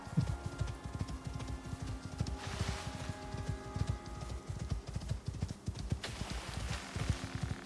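A horse gallops in the Icarus survival game, its hooves thudding in a steady rapid rhythm of close clip-clops that continues throughout amid light ambient game sound.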